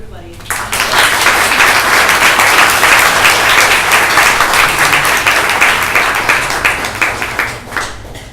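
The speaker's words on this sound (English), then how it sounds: "a round of applause for everybody" Sustained audience applause closes a panel talk, rising quickly and holding as a dense wash of many hands before tapering near the end; some voices mix in beneath the clapping.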